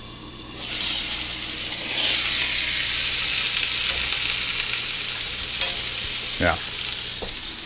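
Frozen dumplings frying in a pan, a loud steady hiss of sizzling oil that swells after a moment and holds, with a brief voice near the end.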